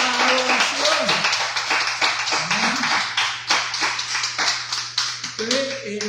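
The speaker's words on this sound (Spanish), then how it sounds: "Démosle al Señor un fuerte aplauso de alabanza y de adoración." A church congregation claps together in praise, giving rhythmic, fairly close applause with a steady beat while a voice keeps speaking over it.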